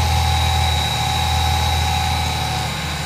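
2009 Chevy Silverado 1500 pickup with a 4.3-liter V6 idling under the open hood, a steady low rumble with a constant tonal hum, close and unbroken.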